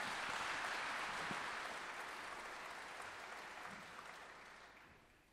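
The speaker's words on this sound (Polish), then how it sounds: "Brawa, brawa." An audience at a school's jubilee gala concert applauds an opera aria performer, a steady, fairly faint clapping that gradually thins and fades out at the end.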